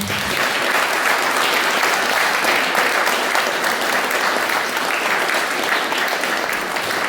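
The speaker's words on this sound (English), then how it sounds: "So please, everybody, a big applause to my organization, Norgesdemokratene." A big, steady round of audience applause at a remigration conference, dense clapping from many hands sustained evenly from start to finish, loud and close with no voices on top.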